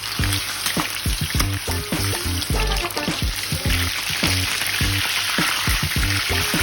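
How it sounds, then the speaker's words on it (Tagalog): Chicken pieces fry in hot oil in a home kitchen, giving a loud, continuous sizzle close up with crackling pops and occasional stirring clatter, with no talking. "kaya heto mag-fried chicken muna tayo"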